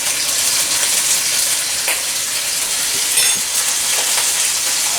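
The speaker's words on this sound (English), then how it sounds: "It sizzling pretty good" Steady, loud sizzling of stir-fry with oyster sauce frying in a hot wok, with faint stirring scrapes and clinks along the way.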